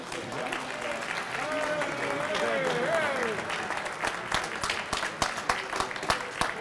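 Applause from a crowd at a charity auction, steady and moderately loud, with some cheering voices mixed in, thinning into scattered individual claps toward the end.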